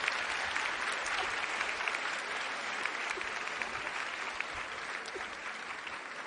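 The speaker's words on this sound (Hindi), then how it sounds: "हम नेताओं को एक बार ताली सुनने की आदत होती है।" Steady, dense applause from an audience at a Delhi event attended by the chief minister, holding at an even volume throughout with no talk over it.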